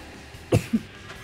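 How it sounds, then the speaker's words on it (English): Two short coughs from a man, a sharp one followed a quarter second later by a smaller one, fairly close and clear over quiet background hiss. "Man, I cannot shake this cough."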